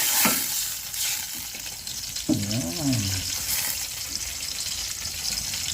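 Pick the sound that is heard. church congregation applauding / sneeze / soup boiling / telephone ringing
soup boiling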